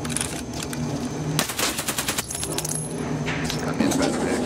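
Rapid automatic gunfire from a video game shooter rattles in dense bursts, with clinking shell-like sounds and a steady background hum, close and moderately loud.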